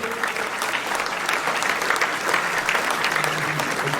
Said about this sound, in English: Please, one more round of applause for Ben and Rudy.